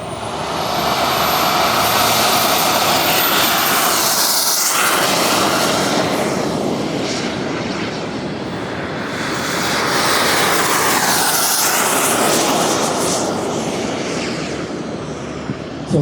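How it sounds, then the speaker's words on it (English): Two small display aircraft revving their engines and taking off at an air show, a loud sustained roar that swells and recedes as the planes pass nearby, with a faint background hum. "They'll get the engines revved up, and they're going to take off here and put on a great show for us."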